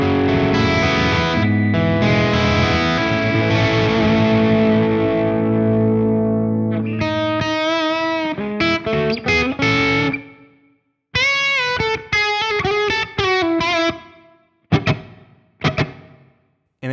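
Clean guitar through an Axe-Fx III Triple Crest amp model with a small studio-room reverb, first a sustained strummed chord ringing out, then a run of picked, bouncy single notes and short chord stabs separated by brief gaps.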